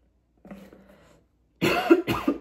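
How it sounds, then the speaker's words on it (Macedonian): A person coughs in two bursts, a softer, lower cough followed after a short pause by a loud, harsh fit of several close coughs, heard alone with no talking. "Зашто кашлам многу?"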